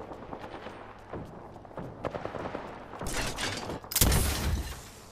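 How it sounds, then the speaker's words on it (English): Gunfire aimed at the player in a battle-royale shooter game: rapid close shots crackle in a burst, ending in a loud, heavy blast, over quieter game sounds. "I'm getting shot."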